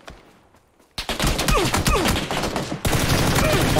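Rapid bursts of automatic gunfire from the video game PUBG, loud and close after a quiet start, with dense overlapping shots and a second sharp volley near the end.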